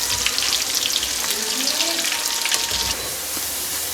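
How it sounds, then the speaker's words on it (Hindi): Potato cubes deep frying in hot oil give a loud, dense, continuous sizzle with bubbling crackle throughout, and no talking. "हमारे क्यूब्स बहुत ही ज़बरदस्त फ्राई हो रहे हैं"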